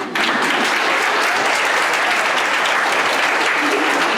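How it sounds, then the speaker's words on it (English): Audience applause for a teacher at a women's university event, a dense, sustained roar of many hands clapping that starts abruptly and holds steady and loud throughout. "Let's give applause for this teacher"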